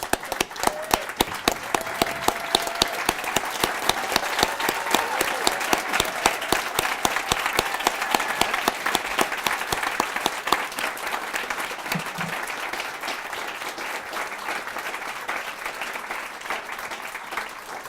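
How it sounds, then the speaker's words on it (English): A standing audience at a naturalization ceremony at Bandelier National Monument applauds new citizens, a dense, even burst of many hands that carries on for a long stretch before gradually thinning. "let's give another standing round of applause for our new citizens"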